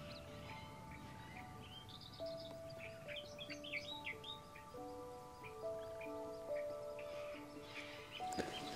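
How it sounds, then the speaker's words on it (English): Grebes give scattered chirps and squawky calls over steady outdoor background noise while an adult bird feeds its young, the calls irregular and moderately near. "The adult is catching things and giving it to the young grebes."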